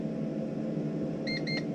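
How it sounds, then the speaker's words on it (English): An EcoFlow Delta II portable power station, after losing power, gives two short electronic beeps close by over a steady background hum. "this is still beeping because it lost power"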